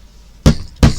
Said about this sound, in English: you want to give it a tap down the legs with a hammer